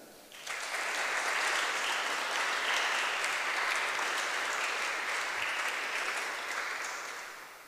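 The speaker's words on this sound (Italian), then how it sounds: "Applaudite Mattia." Audience applause at a festival talk, a dense burst of clapping that starts abruptly and holds steady for several seconds before easing off slightly, loud and full with no voices over it.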